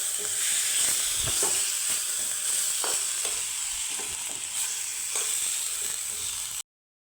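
Fried snacks being stirred in a pan over a steady, gentle sizzle, with scraping and clicking of the spatula at irregular intervals, close and alone until it cuts off abruptly near the end.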